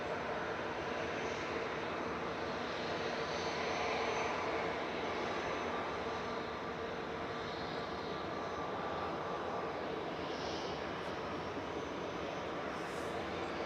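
An EasyJet airliner bound for Mykonos takes off at Manchester Airport, its broad jet roar steady and loud throughout, with no voices over it.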